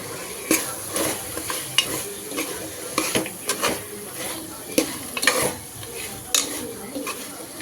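Mutton varuval masala boiling in a pot while being stirred, with irregular close scrapes and clinks of a spoon against the metal over a soft bubbling sizzle.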